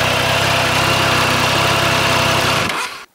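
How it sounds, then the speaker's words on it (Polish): A 2022 Triumph Tiger Sport 660 motorcycle engine runs close to the microphone with a steady, loud, buzzing note for about three seconds, then cuts off abruptly. "podczas takiego dodawania mocniejszego gazu troszkę tam przypierdza. Dźwięk może nie jest jakiś super basowy, mocno stonowany"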